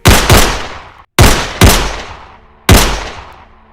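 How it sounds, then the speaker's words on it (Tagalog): Five sharp gunshots ring out in quick succession, loud and close, each with a decaying echo, two close together, then a pause, then three more spaced apart. "5 sunod-sunod na putok ng baril"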